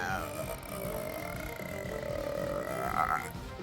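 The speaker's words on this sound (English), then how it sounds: "how do you feel about the girls burping in your face?" A girl's drawn-out burp rumbles for several seconds with a rising croak near the end, close and fairly quiet, without any talking over it.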